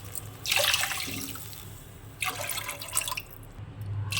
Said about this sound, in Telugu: 3 కప్పులు నీళ్లు పోసుకోవాలి.